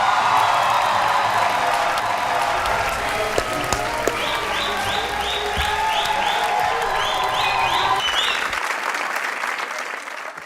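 Studio audience applauds a film's cast and team at a Pakistani comedy talk show, steady loud clapping with some cheers throughout, thinning out near the end.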